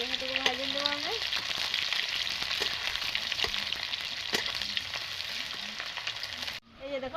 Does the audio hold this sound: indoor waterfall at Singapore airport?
no